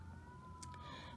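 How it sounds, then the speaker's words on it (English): Emergency sirens wail faintly outside, a thin rising-and-falling tone drifting at a distance under quiet room ambience. "The sirens are shrieking again."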